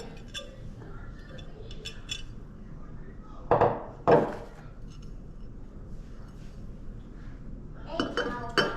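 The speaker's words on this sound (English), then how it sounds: "this is a huge stack of like plates, I think, or something here" A stack of ceramic plates and dishes in a storage unit, handled so they clink and knock together in a few sharp bursts spread across the moment, close by and moderately loud over quiet room noise.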